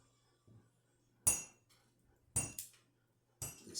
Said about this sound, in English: The silicon happens to be quite brittle. Broke pretty easily too.